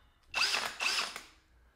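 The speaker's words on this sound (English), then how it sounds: "Let's get the masonry bits and see what they do in hammer mode." A DCK budget hammer drill running in hammer mode with a masonry bit, two close, loud bursts of rapid rattling whine with a short gap between, then winding down.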